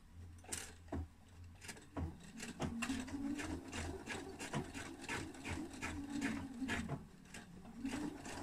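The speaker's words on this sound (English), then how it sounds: "I am going to do some stitching back and forth just to make sure that it really does stay in place" A sewing machine stitches back and forth on a shirt pocket, a close, steady mechanical whir with repeated clicks and knocks throughout.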